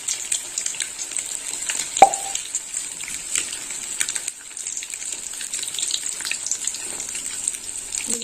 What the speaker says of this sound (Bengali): এবার ডিমগুলো ভেজে নেবো